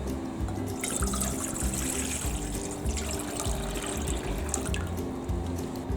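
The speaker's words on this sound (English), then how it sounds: "put 1 liter of water in the pot" Water runs steadily from a tap into a cooking pot as a liter is measured out for bonito broth, a continuous close splashing trickle with no talking.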